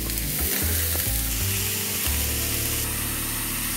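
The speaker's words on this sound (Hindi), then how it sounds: "उसके बाद हम डालेंगे मटर। और अब हम इसे अच्छे से" Vegetables and peas sautéing in a hot pan, a loud steady sizzle and crackle close up with a few stirring clunks at the start.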